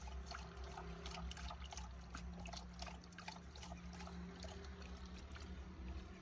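Water trickling and splashing from a tap on a newly installed dog drinking fountain: a steady, close, gurgling flow that runs without a break, with no voices.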